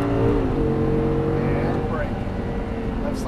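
Audi R8 V10 engine droning steadily on a racing track at Exotic Racing in Las Vegas, heard from inside the car as a continuous loud hum.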